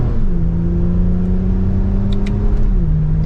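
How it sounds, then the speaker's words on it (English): Steady low exhaust drone from a 2024 Toyota Camry TRD with its TRD exhaust while driving, a smooth even hum whose pitch shifts slightly as the engine speed changes, heard from inside the car with no talking. "Doesn't seem quite as loud for having the TRD exhaust."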